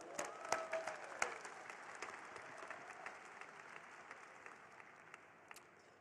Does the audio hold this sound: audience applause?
yes